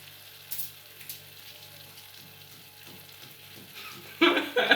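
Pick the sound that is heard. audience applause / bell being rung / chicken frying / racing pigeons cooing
chicken frying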